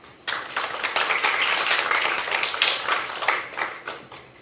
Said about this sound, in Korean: 여러분의 뜨거운 박수로 도리우미 유타카 교수님을 강단으로 모시겠습니다